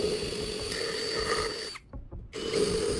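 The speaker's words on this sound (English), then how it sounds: "I'm using a drill to make a starting hole at each end of the line." A power drill whines steadily as it bores a hole, briefly cutting out and then starting up again, close by.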